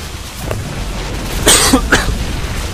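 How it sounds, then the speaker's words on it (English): A single person coughs a couple of times in quick succession, close and fairly loud, over a low steady background hum. "I get a cough once I cast a lot"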